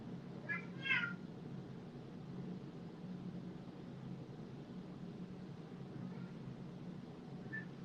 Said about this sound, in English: my kitty's gonna be noisy